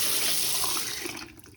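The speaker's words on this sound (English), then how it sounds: "Run some water." Water runs steadily from an apartment bathroom sink faucet with no aerator, a loud, close, broadband rush that tapers off toward the end, with no talking.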